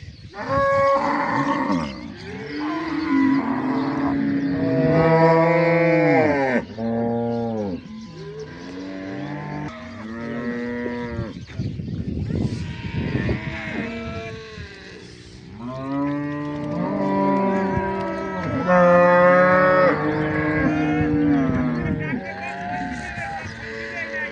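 A herd of dairy cows at a cattle grazing camp moos repeatedly, calls rising and falling and overlapping, close and loud, with faint traffic and occasional bird sounds behind.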